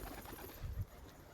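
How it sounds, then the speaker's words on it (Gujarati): Pigeons emerge from their coop with faint, low cooing, heard distantly and quietly for a moment. "આપણે ધીમે ધીમે કરીને કબૂતર બહાર આવે છે"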